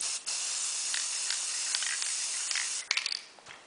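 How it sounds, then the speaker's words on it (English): Spray adhesive hisses steadily from an aerosol can onto the back of a tile, a close, continuous broadband spray with brief pauses and a final tapering burst. "Now spray the back of the tile with more spray adhesive."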